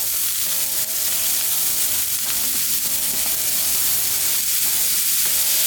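Potatoes sizzle steadily on a hot breakfast-hash griddle, a loud continuous frying hiss with small crackles and occasional scrape-like bursts, no voices.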